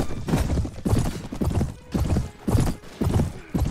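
A horse gallops with heavy rhythmic hoofbeats in the Mount & Blade Warband 1860s America mod, loud and close, the thudding strides mixed with neighing and battle noise.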